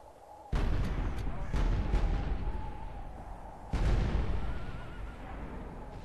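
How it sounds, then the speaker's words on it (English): Volleys of gunfire from Empire troops firing on goblins in the strategy game Medieval 2 Call of Warhammer, sharp booming bursts cracking out at intervals, each trailing into rumbling echoes. "so many of them are falling to my gunfire"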